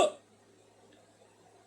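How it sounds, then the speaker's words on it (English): A single sharp, close hiccup from a person bursts at the very start, then fades into near silence. "I got a terrible hiccups."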